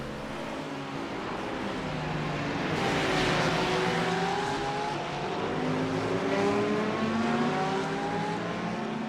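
Race cars in the iRacing simulator, a Porsche among them, roar past with layered, shifting engine whines that rise and fall. Several cars sound at once, loud and close, with no talk.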